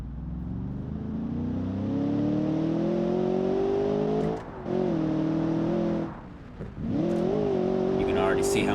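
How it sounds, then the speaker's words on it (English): A car engine in BeamNG revs hard through a wheel spin, a loud sustained drone climbing in pitch, dipping twice briefly before surging again. "So let's try to do the wheel spin"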